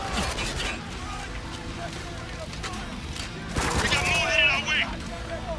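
Sustained bursts of gunfire in the war shooter Spec Ops: The Line, with the heaviest volley toward the end, mixed with game effects and muffled speech underneath.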